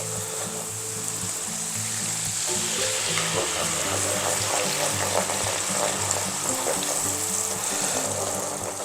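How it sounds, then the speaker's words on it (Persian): Water being added to a tomato-paste sauce for koobideh kebab with vegetables, heard as steady sizzling and frying with some stirring and pouring noise in a continuous kitchen bed, no speech. "حالا من به این نصف لیوانم آب اضافه میکنم."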